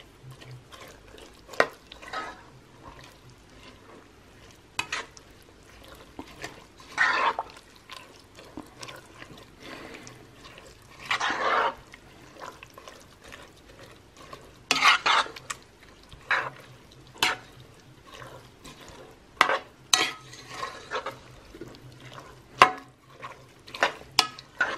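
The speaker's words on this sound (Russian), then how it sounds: "Это все перемешиваем." A spoon stirs cabbage, tomato paste, salt and water in a pan: soft, irregular scraping and clinking strokes over a faint background hum, quiet and close, with no talk.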